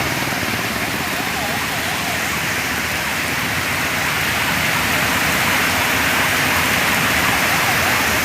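Steady, dense monsoon rain pours beside a railway footbridge near Rabale station on the Vashi–Mumbai route, a loud continuous hiss with no breaks across the whole stretch.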